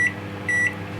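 Steady hum of a microwave oven cooking a Nutella mug cake, broken by two short, clear electronic beeps, heard alone at moderate level.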